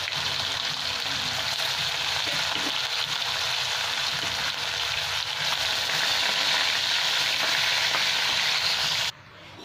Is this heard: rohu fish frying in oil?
yes